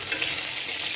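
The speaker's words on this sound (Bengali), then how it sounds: "তো এই যে মাছ ভাজা একটু হয়েছে" Fish frying in hot oil in a home kitchen pan, a bright continuous close sizzle and crackle with no voices.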